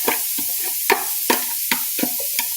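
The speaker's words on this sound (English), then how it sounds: "I think dry sauteing is the best." Onions are dry-sautéed in a pan without oil, giving a continuous faint sizzle broken by regular scraping strokes as a utensil stirs them.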